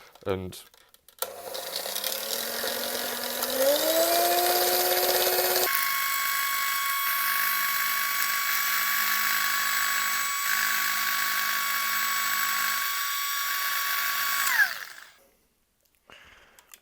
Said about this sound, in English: And then you need to beat it really, really hard. So that's why we've got the whisk back out.